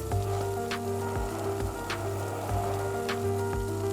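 Prepared lentils tipped into frying onions set off a steady, close sizzle with soft crackles throughout, alone without talk, while cooking a Lebanese-style lentil rice pilaf.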